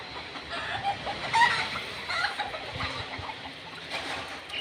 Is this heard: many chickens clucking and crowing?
yes